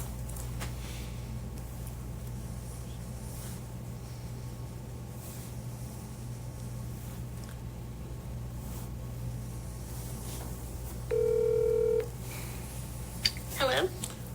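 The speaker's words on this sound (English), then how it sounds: "Phone number we're calling him at." A telephone being dialed on a call, a short steady electronic tone and a brief warbling beep heard faintly over a constant low hum and faint background noise.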